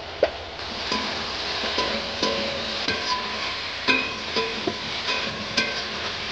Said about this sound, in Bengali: আর এই ট্যাংরা মাছগুলো এখন আমি দিয়ে দিচ্ছি।